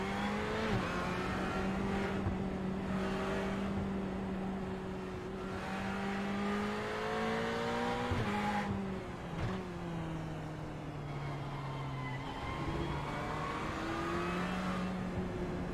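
A race car engine in the iRacing simulator, a steady, loud droning whine that climbs through revs, drops sharply at gear changes and climbs again, heard alone without talk.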